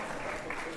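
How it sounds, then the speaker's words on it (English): Dense, steady applause from a crowd at a gathering, cheering the winners, filling the short moment evenly. "give them a round of applause"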